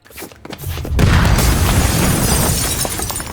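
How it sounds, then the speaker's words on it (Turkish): Bomb blast in the video game Mafia: Definitive Edition, a few short pops followed by a loud, sustained roaring explosion with crackling debris that fills the scene and slowly tails off. "Yetmiyor bir de bomba atıp ortalığın ağzına sıçıyorlar."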